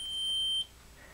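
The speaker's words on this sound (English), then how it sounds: "there you can hear the beep letting you know that the connections are all back up and running" A Roost smart water sensor gives a single steady electronic beep, about half a second long, after its batteries are reconnected, then cuts off into quiet room tone.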